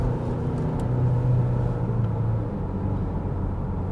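A 2025 Genesis G70 engine hums and rumbles steadily from inside the cabin, a low droning growl that swells gently as the car accelerates in third gear.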